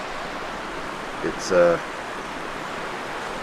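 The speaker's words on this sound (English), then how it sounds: "That water's still flowing." A flooded creek at a campsite rushes with a steady, broad hiss of flowing water. A voice speaks briefly partway through.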